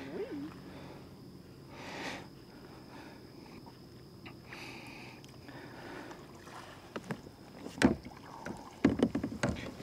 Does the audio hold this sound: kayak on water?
yes